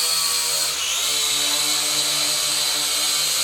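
A World Tech Elite Striker-X HD camera drone flies with a steady, loud high-pitched whine of buzzing propellers whose tone shifts slightly as it maneuvers, heard alone.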